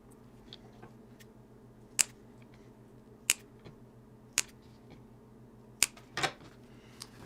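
Mint cuttings are trimmed with scissors that give several crisp, close snips at irregular intervals over a quiet room hum.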